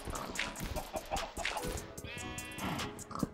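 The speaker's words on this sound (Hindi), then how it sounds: "दो दो मुर्गी आ गई" Chickens cluck in the Minecraft video game, with short clucking calls in a busy mix of game sounds, moderately faint and close.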